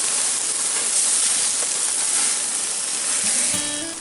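Strip steaks in a hot pan just after a flip, giving a loud, steady hiss of sizzling fat that holds evenly throughout without any voices.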